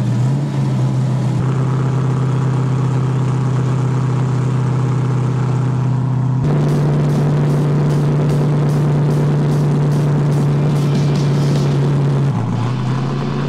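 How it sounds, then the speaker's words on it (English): Holden Torana race cars with straight exhausts driving in convoy on main roads near Bathurst, a loud, steady engine drone that holds one pitch, then steps up and runs strongly throughout, close and continuous. "Unbelievable sound coming from the straight exhaust. It's nothing like a V8."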